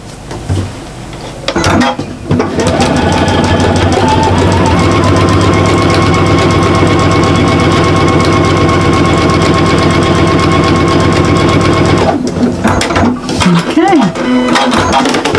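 A sewing machine top stitches across the top of a bag pocket, running steadily and loudly for about ten seconds with a rapid even needle rhythm, with brief handling noise before it starts and after it stops.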